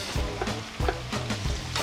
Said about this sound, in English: start frying it up in that fat